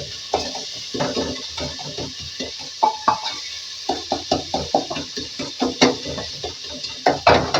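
Turmeric and red chili powder are stirred through a frying pan with a spoon, giving a run of rhythmic scraping taps against the pan over a soft sizzle. No one speaks.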